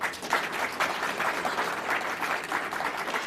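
Audience at a Michigan State University Black History Month event claps steadily in a dense, even burst of applause lasting a few seconds, moderately loud with no voices over it.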